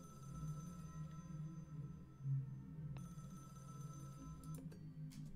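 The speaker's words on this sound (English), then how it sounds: "Is anyone gonna pick up the phone?" A telephone rings faintly in the background over a low steady hum, its repeated tones set back in the room rather than close by.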